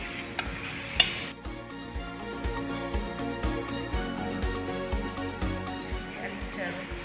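A spoon scrapes and taps steadily around a bowl, stirring a thick all-purpose flour breading mixture in a quick repeating rhythm, close and moderately quiet.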